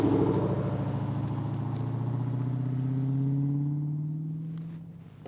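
A Dodge Hellcat car cruises with a deep, steady engine drone and rising harmonic whine, heard from inside at moderate loudness before easing off near the end.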